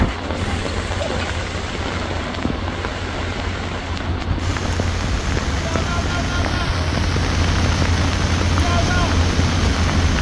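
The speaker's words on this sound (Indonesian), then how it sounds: "Hujan semakin deras ya." Heavy rain pours down steadily at the Batu Jomba road during a landslide, a loud, dense hiss of drops striking surfaces that keeps up without a break throughout.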